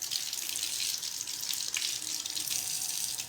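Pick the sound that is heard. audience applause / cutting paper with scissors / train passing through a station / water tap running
water tap running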